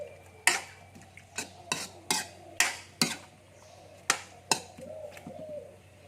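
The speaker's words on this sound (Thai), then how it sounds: "คนให้มันสุกๆก่อน" Chicken curry with pumpkin and bok choy stirred in a pot: sharp utensil knocks and scrapes against the pot in a loose, uneven rhythm, close and moderately loud over a low steady hum.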